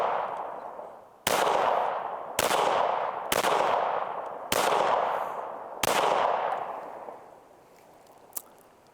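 A PSA Rock pistol fires AAC ammunition in six sharp, loud shots at irregular intervals, each ringing out and decaying over about a second outdoors. The firing stops after the last shot, followed by a faint click.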